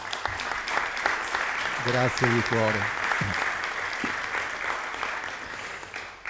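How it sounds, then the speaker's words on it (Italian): An audience at a book presentation applauds with steady, fairly loud clapping throughout, while a nearby speaker briefly says a few words of thanks over it. "farei un applauso"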